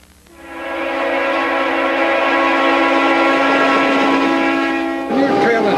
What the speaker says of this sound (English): and the train has left the station.